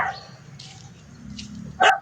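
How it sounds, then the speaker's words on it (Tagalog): A guard dog at an old mansion gives one short, sharp bark at the end after a moment of quiet, low rustling. "at may nagbabantay na aso."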